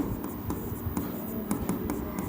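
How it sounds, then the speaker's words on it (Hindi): Chalk or marker scratching across a classroom board in short quick strokes and taps, fairly close and quiet, with faint room noise and no talking. "रुक जाओ, मैं बढ़िया के लिख रहा हूं आपके लिए।"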